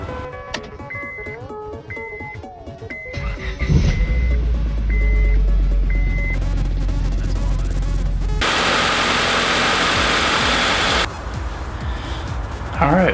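A car engine cranks and catches, then settles into a steady idle after its brake booster hose is reconnected. Electronic warning beeps chime before the start, and a loud rushing burst rises over the running engine midway.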